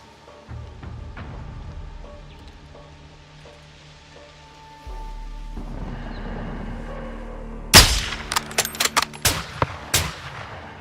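Sniper rifle shots ring out in Call of Duty: Modern Warfare 2, a sharp loud crack followed by several more close, spaced reports with echoing tails, after a stretch of low rumbling ambience and faint background hum.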